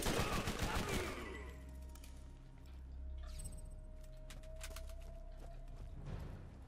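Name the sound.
gunfire in the video game Borderlands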